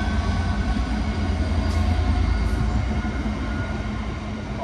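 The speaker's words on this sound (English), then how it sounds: "Ryan, get a picture, get a video of the train." A train rumbles past close by, a loud continuous low roar of rolling wheels and carriages that stays heavy throughout.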